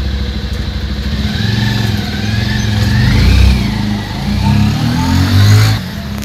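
Scooter pulling away, its small engine revving and rising in pitch as it accelerates, holding a loud, wavering buzz close by before easing slightly at the end.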